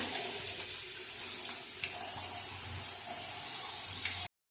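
Steady running water from a tap splashes into a sink with a faint clatter as radish is rinsed, continuous for several seconds before cutting off abruptly.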